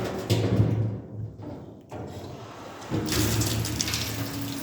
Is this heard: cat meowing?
no